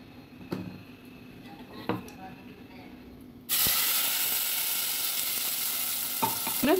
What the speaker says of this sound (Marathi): चांगलं परतून घेऊया आपण